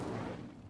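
An Incendio fire spell cast in Hogwarts Legacy lets out a short, dense roaring whoosh of flame that swells at once and fades within a second, heavy and full-bodied with no voices over it.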